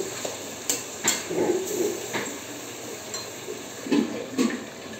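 A spoon stirs ridge gourd with tamarind in a pan, giving a few soft scraping and clinking strokes over a low, steady background hiss, close by and without talk.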